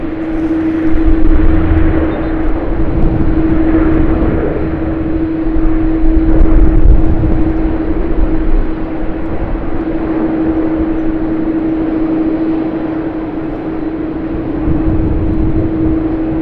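A Vietnam Airlines Airbus A350-900 at Sydney Airport gives off a constant jet engine rumble with a steady tonal whine running through it, loud and continuous with slight swells in level.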